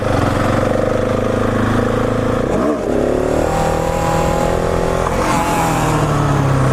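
A 701 Supermoto motorcycle engine revving hard through a wheelie at a stunt lot, loud and close, with a brief dip and surge in the revs midway.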